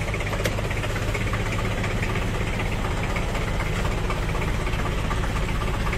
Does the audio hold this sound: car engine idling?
yes